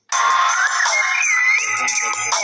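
Electronic phone ringtone playing loudly and steadily, a bright warbling melody starting abruptly and continuing throughout.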